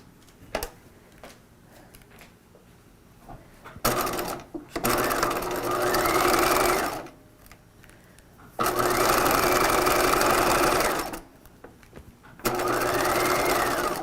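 A sewing machine stitches a dress seam in three loud, close bursts of rapid mechanical whirring, each lasting a few seconds, separated by quiet pauses with faint handling clicks.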